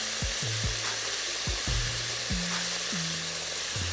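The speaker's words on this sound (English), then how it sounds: "So we're gonna let that finish frying." Calamari frying in hot oil, a steady dense sizzle with repeated low clunks and scrapes as the pieces are stirred and moved around, no voices.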